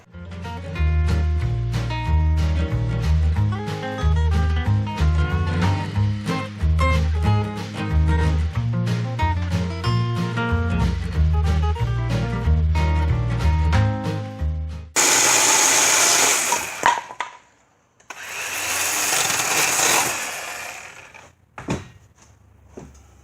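A DeWalt power tool cuts a 1.5-inch notch in a log for a handcrafted stair handrail: music plays first, then two loud, harsh bursts of cutting follow, separated by a short pause, and a few brief knocks come after.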